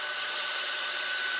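A steady high-pitched whir of an electric drill running continuously at close range, priming oil pressure on a Chevy 350 LT1 engine, with no talking.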